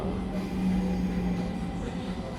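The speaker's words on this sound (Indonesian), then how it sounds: "Kalau lihat ada pelan kali LRT-nya" LRT light rail train on Line 3 in Malaysia moving slowly, a steady low rolling rumble with a sustained hum from inside the car, continuous and fairly close.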